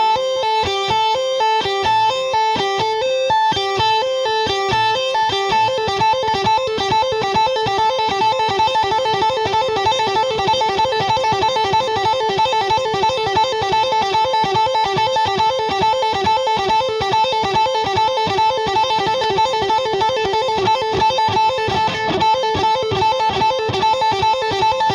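Electric guitar fretting-hand exercise using hammer-ons and pull-offs, played slowly and steadily as a continuous repeating pattern of even notes for the whole stretch, with no talk.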